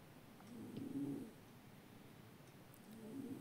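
Birds at an aviary that also keeps peacocks call with low cooing notes in two soft bursts, the first near the start and the second at the end, fairly distant, with quiet background between them.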